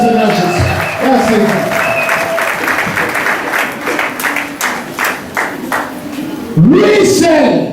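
A church congregation applauds loudly during a French-language worship service, with sustained clapping under a speaking voice and tonal ringing sounds partway through.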